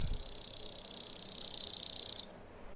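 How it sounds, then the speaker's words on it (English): A chipping sparrow delivers a dry, rapid, high-pitched trill, held evenly and fairly loud for about two seconds before cutting off, with nothing else around it. "chipping sparrow,"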